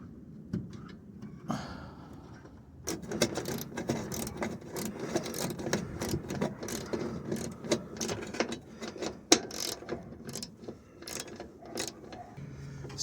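Clicking of a ratchet while working on C10 truck doors, a long run of rapid mechanical ticks and clacks in bursts, close and fairly quiet with no talk.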